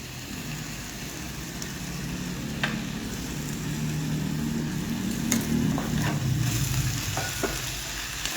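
Small sausage pieces coated in salt and pepper frying in a pan, a quiet continuous sizzle with occasional scrapes and clicks of stirring, no talking.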